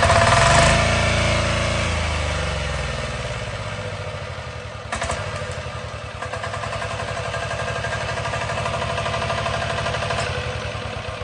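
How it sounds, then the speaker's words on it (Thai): A small single-cylinder engine, compared to a big Kubota, is hand-crank started and settles into a loud, steady rapid chugging idle with a clattery mechanical knock, close to the microphone. "หมุนสตาร์ทเหมือนอารมณ์เดียวกับเครื่องคูโบต้าตัวใหญ่นะครับนี่นะครับฟังเสียงเหมือนกันเลยนะครับ"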